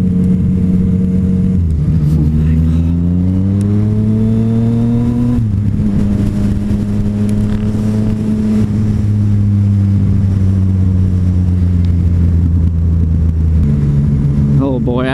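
A Yamaha FZ-09 motorcycle with an aftermarket exhaust, suspension and ECU tune accelerates hard past a car, its close, loud engine note rising and dropping through gear changes under steady wind roar.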